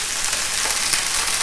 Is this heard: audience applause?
no